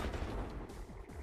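Sniper fire in a real-time strategy match: a dense burst of gunfire rumble and cracks packed into a short moment, loud and continuous with no voices over it.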